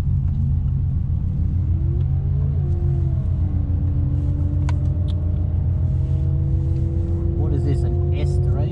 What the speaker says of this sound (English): Racing Audis now.